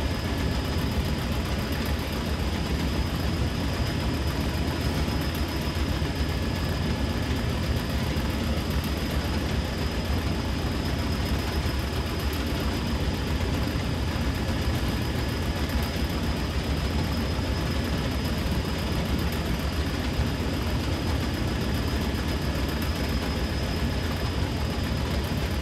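A Class 40 diesel locomotive in Train Sim World, hauling oil tanks on a northern Trans-Pennine run, gives off a steady heavy drone of engine and vacuum exhaust with a thin high whine on top, constant and close throughout.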